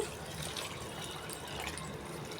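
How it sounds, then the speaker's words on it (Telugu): Water pours steadily into ragi flour, made at one cup of flour to six glasses of water for a ragi malt drink. It is a continuous close splashing gush with no pauses. "1 కప్పుకి 6 గ్లాసులు నీళ్ళు కలుపుకోవాలి కదా."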